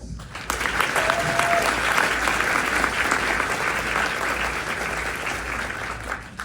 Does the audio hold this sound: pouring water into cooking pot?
no